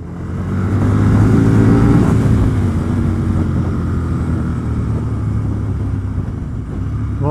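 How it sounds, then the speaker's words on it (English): An Aprilia RSV 1000 10th Anniversary Edition motorcycle rides over a very bumpy road through roadworks. A loud, steady engine drone blends with wind rush, swelling briefly early on before settling into a constant cruising hum. "I think this is the most riding I've ever done on this bike"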